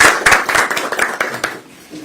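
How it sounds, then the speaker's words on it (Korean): A crowd at a Korean political rally claps for a Yongsan district mayoral candidate, Kang Tae-woong. Loud, close hand claps come in quick bursts, then thin out and fade toward the end. "우리 강태웅 후보에게도 큰 박수를 한번 부탁드리겠습니다"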